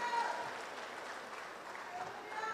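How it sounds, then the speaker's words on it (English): Congregation at a funeral church service clapping hands, a steady, moderately faint patter of many hands sustained throughout with a voice speaking over it. "Clap your hand for that."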